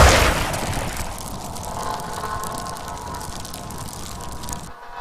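A rocket launcher blast in the Xenonauts video game erupts loudly at the start, then rumbles and crackles on for several seconds as debris settles, fading near the end with no voices.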